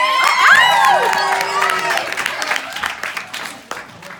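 A stand-up comedy audience claps, whoops and cheers loudly as a comedian takes the stage, with shrill whistles at the start, and the noise gradually fades over four seconds.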